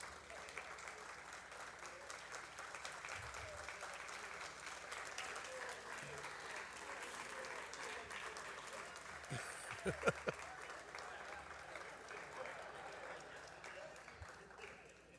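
A convention hall audience gives a standing ovation, sustained applause that stays even and moderately distant, with a few sharper claps standing out near the end.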